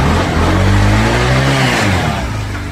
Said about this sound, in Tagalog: pakinggan mo yung tunog ng motor mo.